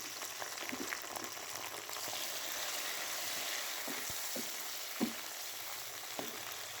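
Chopped tomatoes going into browned onions frying in a pan for a spicy keema bhindi: a steady, quiet sizzle with a few sharp clicks of a spoon stirring against the pan, no voices.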